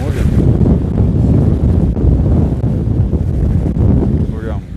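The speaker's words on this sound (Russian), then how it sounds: "но шум моря." Sea surf and strong, cold wind on a central town beach, a steady loud roar with heavy wind buffeting across the microphone throughout.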